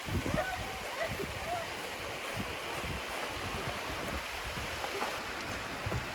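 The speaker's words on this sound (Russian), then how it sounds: "дождь проливной начался" A heavy downpour of rain in a Tatar village, heard as a broad steady wash of noise with gusty low rumbles and a few faint voices underneath.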